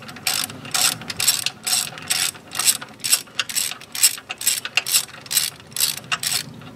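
Ratchet wrench tightening steering box frame brace bolts on a 1991 GMC Jimmy, a close, loud run of rapid clicking bursts in an even back-and-forth rhythm with no talk.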